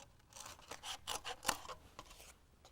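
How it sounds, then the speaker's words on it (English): Scissors cut through a thin plate for a model airplane, a series of close crisp snips and rasping rubs in an irregular rhythm, fairly quiet. "you notice I turn the plate instead of turning my scissors. It just makes it easier to cut through these"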